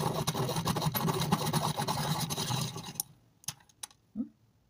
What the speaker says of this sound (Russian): Хочу посмотреть, насколько он удобно затачивается.